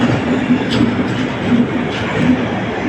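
The Mysore to Bangalore superfast express rumbles along at speed, heard from inside as a loud, steady roar with faint rhythmic wheel clatter recurring about every second.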